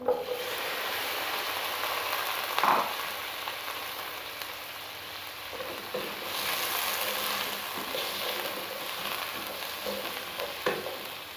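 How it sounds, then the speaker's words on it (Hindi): Cubed onions hit a hot pan for Chicken Manchurian and fry with a steady, close sizzle, broken by a few stirring clatters along the way, with no talking. "अब हम इसमें जो क्यूब की शक्ल में काटी हुई थी प्याज वो डाल देंगे।"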